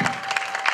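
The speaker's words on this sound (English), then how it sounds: "Let's give a big round of applause." An audience at an MZU Foundation Day event applauds a performing team, a brief burst of mixed clapping in a hall, under a second long.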